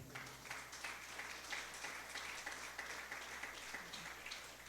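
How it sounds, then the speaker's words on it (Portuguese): A church congregation applauding after a prayer, a dense, sustained wash of clapping from many hands filling the room at moderate level, with no speech. "Vamos aplaudir o Senhor."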